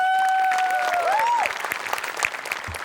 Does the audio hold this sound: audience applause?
yes